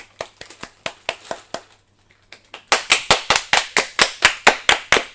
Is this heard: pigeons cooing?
no